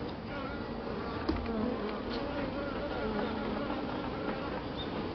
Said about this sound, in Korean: 꿀벌은 날개를 진동시켜 나는 소리로 교신을 하는 것으로 생각됩니다.